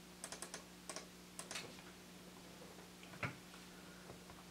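Typing on a Chuwi Hi10 tablet keyboard, a few quiet, close key clicks in short clusters followed by a single louder tap, over a faint background hum.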